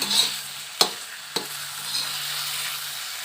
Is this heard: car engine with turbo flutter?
no